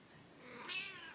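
A pet cat gives a single soft meow that rises and then falls, quiet and close in a calm indoor room, with no talk over it.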